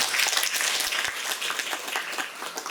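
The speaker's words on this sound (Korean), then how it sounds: "큰 박수 한번 부탁드립니다" Dense, steady audience applause fills a lecture hall during a Sunday question-and-answer talk, many hands clapping together at a full, even level with no voices over it.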